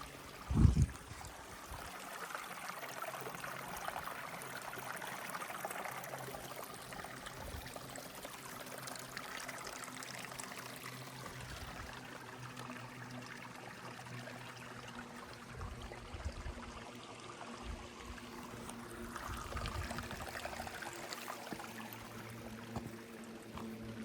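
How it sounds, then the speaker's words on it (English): A steady stream of running water flows on a long backpacking trip, a continuous broadband rush and trickle that holds at an even level throughout, with no one talking. "It's our first running water of the trip."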